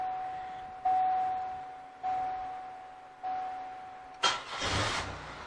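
Three short electronic chimes sound in sequence before a Monte Carlo SS engine cranks and catches after sitting unused, settling into a low running rumble up close.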